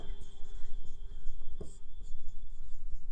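A definition is written out by hand, the pen or chalk scratching and rubbing in short close strokes with small pauses between them.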